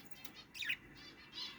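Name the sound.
lovebirds chirping in a cage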